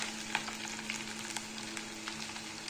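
Chopped garlic fries in hot oil for a Khandeshi eggplant and potato bhaji, giving a steady, soft hiss of sizzling with a few small crackles and light stirring, with no voices.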